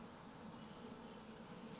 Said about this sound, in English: Look at all those cicadas.